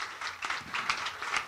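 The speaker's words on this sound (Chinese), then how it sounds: "可不可以借大家掌声，" An audience at a university debate competition event claps in a short burst of dense, moderately loud applause that fills the brief moment without any talking.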